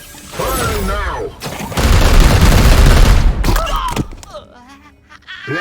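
A loud, dense burst of automatic gunfire and heavy thuds from the turn-based game Warhammer 40k Chaos Gate Daemonhunters runs for about two seconds. Shouted voices come before and after it.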